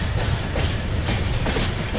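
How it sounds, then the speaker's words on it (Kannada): Express train 16540 rolls into Hassan Junction railway station with a steady rumble and rhythmic clatter of wheels over rail joints, loud and close throughout, with no voices. "ನಮ್ಮ ಈ ಎಕ್ಸ್ಪ್ರೆಸ್ಸು ಟ್ರೈನ್ ನಂಬರ್ 16540 ಸದ್ಯಕ್ಕೆ ತಲುಪಿದೆ ಎಲ್ಲಿಗೆ, ಹಾಸನ್ ಜಂಕ್ಷನ್ ರೈಲ್ವೆ ಸ್ಟೇಷನ್ಗೆ"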